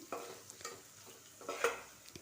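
Masala for chole frying in a pan while a spoon stirs it, with soft scraping strokes and a light sizzle at close range, no voices.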